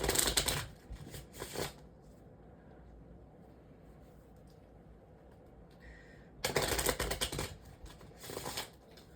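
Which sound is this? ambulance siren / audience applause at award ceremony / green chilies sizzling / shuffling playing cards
shuffling playing cards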